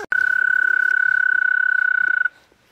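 A frog in a backyard in Henderson, North Carolina gives one long, steady trilling croak, close and loud, lasting about two seconds before stopping abruptly.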